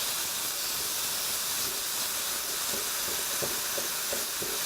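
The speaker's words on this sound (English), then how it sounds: "once you're happy with your garlic, just chuck it in. And just start mixing it through." Garlic and pork mince fry and are stirred in a pan, a steady, fairly quiet sizzling hiss with faint scraping of the spoon or spatula.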